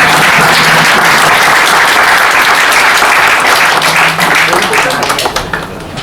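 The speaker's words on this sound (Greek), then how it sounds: "Χειροκρότημα." Loud, close applause from an audience at a book presentation for Maria Adamantidou, with dense continuous clapping that holds steady and then starts to thin toward the end.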